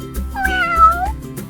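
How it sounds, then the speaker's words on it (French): A farm cat lets out a single clear, drawn-out meow that rises and falls in pitch, close and loud, with a faint rhythmic backing beat underneath and no talking. "le chat"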